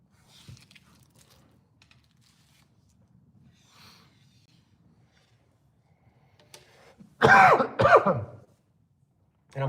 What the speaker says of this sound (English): And I'm coughing a lot now.